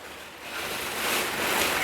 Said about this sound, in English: in the rain, a greenhouse can be a very noisy place